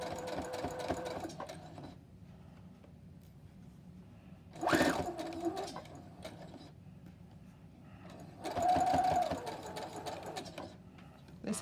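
A domestic sewing machine runs in short bursts of rapid stitching while back-stitching the seam of a fabric face mask, each run fairly close and steady, with quieter pauses between.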